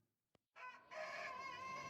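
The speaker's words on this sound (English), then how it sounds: "That rooster really needs sorting out." A rooster crows close by in a rural village setting, starting with a brief click and then a loud, sustained cock-a-doodle-doo that rises and holds steady for over a second with no talking.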